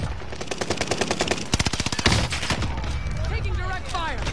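Rapid automatic weapon fire in a video game rattles off in tight, evenly spaced bursts, loud and close, with a sustained stretch near the middle and players talking over it.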